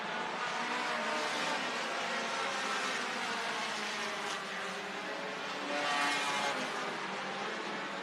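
Race cars of the Midwest Dash Series lapping Rockford Speedway, a dense, loud roar of several engines blending together that rises and swells as the pack passes, steady throughout with no voices audible.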